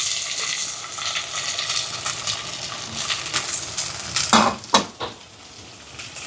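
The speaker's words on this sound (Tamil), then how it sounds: "இப்போ இதெல்லாம் நல்லா வதங்கட்டும்" Fennel seeds, cumin, green chili, garlic and shallots sizzle steadily in hot oil in a pan, with a few sharp clinks and scrapes from a stirring spoon against the metal partway through.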